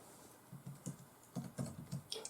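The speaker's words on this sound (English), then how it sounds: "And then let's type the password." A computer keyboard being typed on at a desk while entering a password before booting a DWM desktop, with soft irregular keystroke clicks in short bursts, quiet and close, with no talking.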